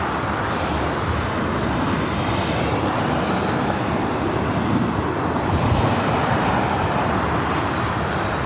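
A Delta Airbus A319 airliner at LAX, a loud, steady jet engine roar with a broad rumbling wash that holds at full strength the whole time, with no voices.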